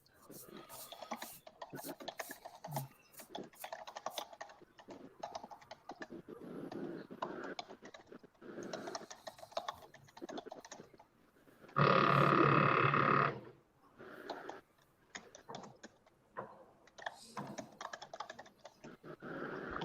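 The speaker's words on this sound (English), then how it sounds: "They're just going off on the keyboard." Fast, frantic typing on a computer keyboard clatters in dense bursts across the whole stretch, with a brief louder noise partway through.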